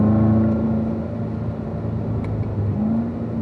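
Car engine pulling steadily after a downshift to third gear while driving, a loud continuous drone with a rising whine and constant road rumble, close and alone without talk.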